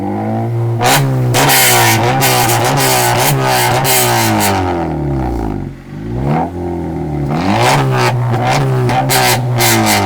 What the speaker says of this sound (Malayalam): എക്സോസ്റ്റ് നോട്ട് ഒന്ന് കേട്ടാലോ?